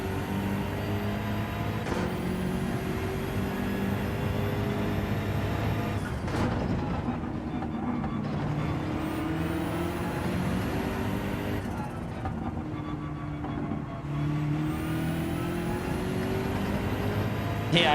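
A race car in Gran Turismo 7 drones at high revs, then its engine note drops sharply twice as it brakes hard before corners, with a faint voice in the background.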